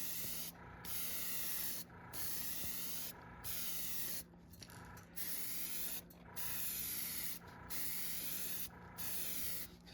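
An airbrush with a 0.2 mm nozzle spraying paint onto fishing lures in bursts of steady hiss, about eight close, even pulses with short gaps between them and no talking.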